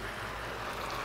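Water from a cup poured into a pan of fresh vegetables on the stove, a steady, continuous splashing pour lasting about a second with no other sounds.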